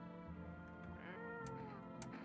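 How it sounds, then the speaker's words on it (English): A cat meowing in the video game No, I'm Not Human, several drawn-out, wavering meows over a continuous low musical background, with no speech. "Hello, kitty cat. Pet the cat."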